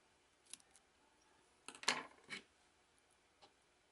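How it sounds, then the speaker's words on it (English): Scissors snip through a strip of Kapton tape during a decoder install on an N scale Walthers GP38-2 locomotive, a few quiet, close cuts with one sharper main snip in a hushed room. "And I got to cut this piece of tape here."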